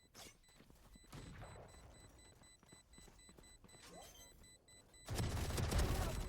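Rapid machine gun fire in a video game comes in bursts of dense cracking shots and impacts, ending in a heavy loud barrage, with game sounds and brief tones throughout.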